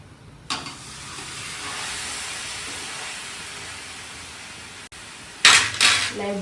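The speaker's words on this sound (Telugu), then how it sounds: "పెడితే అప్పుడు కొంచెం అట్లా ఫ్రై చేయాలి" Chicken frying in a pan gives a steady broadband sizzle that holds for several seconds, broken near the end by louder bursts like stirring or shifting the pieces.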